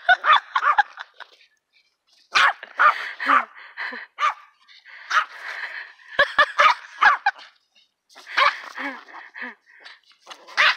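An 11-year-old Yorkshire Terrier barks in loud, rapid bursts with brief pauses between volleys, close by.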